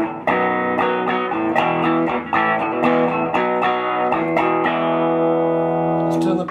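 A Gibson Les Paul played clean through a Silverface Fender Pro Reverb amp with a touch of reverb, sounding as a series of plucked notes and chords that ring and overlap, with a final strum near the end.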